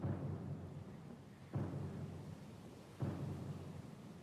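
Stormy sea in Pillars of Eternity II: a steady low roar of wind and rain with three deep thunder rolls, each swelling suddenly and then fading, arriving evenly about every second and a half, with no voices.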